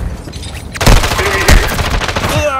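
Gunfire in a Call of Duty: Modern Warfare II match: loud bursts of automatic fire with sharp, heavy shots and rattling echoes over about three seconds, close and dense, with no speech.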